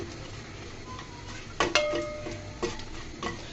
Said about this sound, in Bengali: মরিচগুলোকে সুন্দর মতো আমি ভেজে নিচ্ছি।